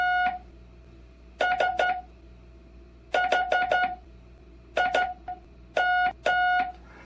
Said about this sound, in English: So, if I was going to do Farnsworth, it would sound like this.